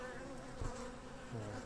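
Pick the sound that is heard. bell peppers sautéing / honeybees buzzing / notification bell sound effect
honeybees buzzing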